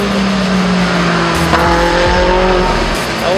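A Lamborghini on a Las Vegas race track, its tires squealing loudly over a strong engine roar, with sustained rising squeal tones as the car corners close by.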